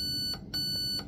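An airsoft gun's electronic trigger unit, a Raven Evolution Furion ETU, gives a short series of close, steady electronic beeps in quick succession while being programmed for trigger sensitivity, with no talk over it.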